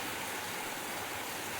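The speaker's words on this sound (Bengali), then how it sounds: "আর তারপর নামলো ঝমঝমিয়ে বৃষ্টি।" Heavy rain falls as a dense, steady roar of broadband hiss, unbroken and even throughout, a sound effect used in a horror audio story.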